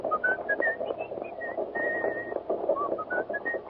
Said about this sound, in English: What's that tune you're whistling?